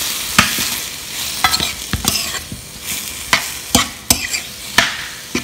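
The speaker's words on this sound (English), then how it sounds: "I'm going to add all the spices." Spices being stirred into a frying chana greens curry: a steady sizzle under repeated sharp scraping strokes of the spoon in the pan, close and fairly loud, with no talking.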